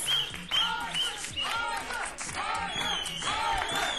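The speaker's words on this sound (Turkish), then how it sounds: "Alkışlar devam ediyor." Applause and cheering from a studio audience at a Turkish TV game show, with whoops and crowd noise and someone speaking over the clapping throughout.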